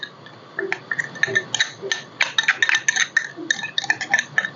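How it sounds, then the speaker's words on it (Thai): About five tablespoons of chili paste go into a pan of simmering coconut milk and get stirred, producing a busy run of bright metallic clinks and scrapes from a utensil against the pan, close and fairly loud. "อันนี้เป็นพริกของเราค่ะ ก็ประมาณ 5 ช้อนโต๊ะนะคะ ใส่ลงไปเลยค่ะ"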